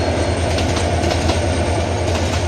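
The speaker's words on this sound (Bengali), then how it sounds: "এটি আন্তনগর ব্রহ্মপুত্র এক্সপ্রেস, যেটি জামালপুর থেকে ঢাকার উদ্দেশ্যে ছেড়ে যাচ্ছে।" Brahmaputra Express intercity train departing Jamalpur for Dhaka near Piyarpur station in a village on a winter morning, a steady close rumble of rolling wagons with rhythmic clickety-clack and faint wheel squeal, no voices.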